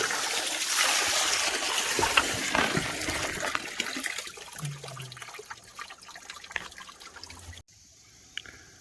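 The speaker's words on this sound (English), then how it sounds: "use this hose to rinse out the box" Water from a hose rinses out a box, a steady gush and splash that thins to trickling and dripping before stopping near the end.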